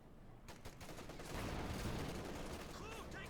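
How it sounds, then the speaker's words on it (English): Machine-gun fire from an MG-44 in Company of Heroes 2 rattles in a dense, continuous burst amid wider battlefield gunfire, steady and fairly loud throughout. "MG-44 setting up."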